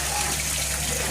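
Tamarind water pouring into a pot of simmering kuzhambu, a short steady gush of liquid close by.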